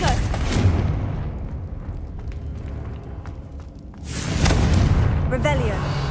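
Confringo blasting spell cast in Hogwarts Legacy, heard as two booming fiery bursts with a rushing tail, one at the start and a louder one a few seconds later, separated by a quieter low rumble.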